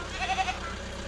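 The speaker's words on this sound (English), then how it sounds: "Baby goats!" Baby goats on a farm give a few short, quick bleats close by, over a quiet background hum.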